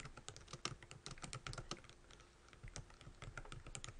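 Typing on a computer keyboard while entering text in embroidery design software, a steady run of quick, close key clicks with short pauses and no talking.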